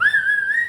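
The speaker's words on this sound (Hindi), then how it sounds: "हाँ सीटी आए।" A single sustained human whistle rings out loud and close, one steady, slightly wavering tone that lasts under a second with nothing else behind it.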